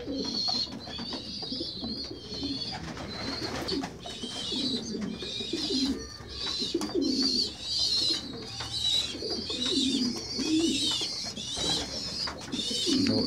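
Pigeon squabs coo and squeak continuously while crowding in for group feeding, a soft, busy mix of low cooing and high chirpy begging calls at moderate distance, with no speech.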